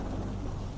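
Steady rainfall with a low, continuous rumble of thunder underneath, an even, dense patter that keeps going without a break.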